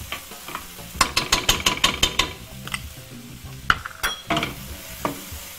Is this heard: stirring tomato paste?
yes